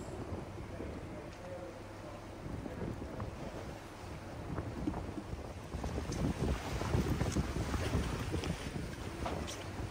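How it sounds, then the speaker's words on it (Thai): Sea waves washing and steady wind buffeting at a hilltop island temple in Phuket, a broad continuous rush with some microphone wind noise, swelling louder toward the end, with no voices. "It is very peaceful from the sound of the wave and the wind."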